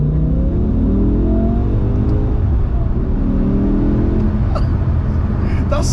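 A 2005 BMW M6 E63 pulls hard in second and third gear, its engine note rising in loud, steady sweeps that fill the cabin, with a brief rumbling pause near the end and no talking.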